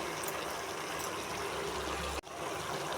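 Water pouring steadily into a pot of cooking masala, a continuous splashing trickle that stops abruptly near the end.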